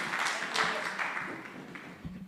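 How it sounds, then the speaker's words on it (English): An audience at a public lecture claps, a brief burst of applause that fades quickly over about two seconds. "Let's give him a warm round of applause"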